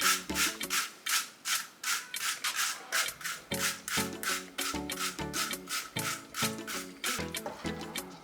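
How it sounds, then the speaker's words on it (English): An onion being grated by hand while cooking, a steady rhythm of close, rasping scrapes, each stroke repeating about every half second with no talk. "I'm gonna grate the onion"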